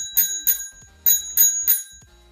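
The handlebar bell of a Sunstech RIDE electric scooter rings five times in quick, bright metallic dings, loud and close, each with a short ringing decay.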